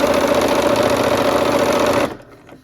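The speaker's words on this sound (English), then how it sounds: "We're gonna sew these all together." A sewing machine stitches quilt pieces for a barn quilt sampler, a fast, even mechanical whir with a rhythmic needle chatter, loud and close, stopping abruptly near the end with no one speaking.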